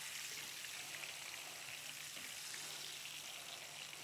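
Breaded chicken frying in a pan, giving a steady soft sizzle and crackle that holds evenly throughout, fairly quiet and without talk.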